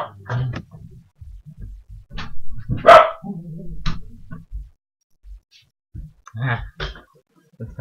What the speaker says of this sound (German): Unser Hund muss wieder bellen.